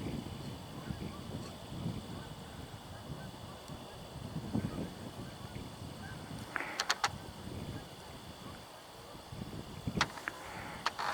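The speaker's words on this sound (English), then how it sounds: "We're hearing primarily Canada Geese right now" Distant Canada geese honk faintly over a low outdoor rumble, with a few brief sharper calls breaking through here and there.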